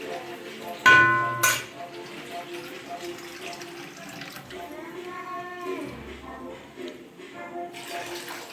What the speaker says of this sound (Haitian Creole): On va ajouter un petit de l'eau pour hein.